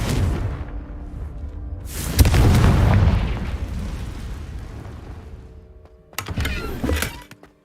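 A Confringo fire spell explodes in the Hogwarts Legacy video game: a sudden loud boom bursts out and fades into a long crackling rumble, followed by a second sharp burst of blasts near the end.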